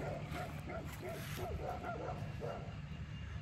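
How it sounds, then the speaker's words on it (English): Neighbours' dogs bark and yip in the early morning, faint and distant, in a quick run of repeated barks over a steady background hum. "Can you hear the dogs?"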